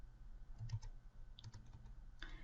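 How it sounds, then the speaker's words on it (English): A few scattered keystrokes on a computer keyboard as a command is entered, soft clicks at an irregular pace over a low hum, with no talking. "So I'm going to type in grid,"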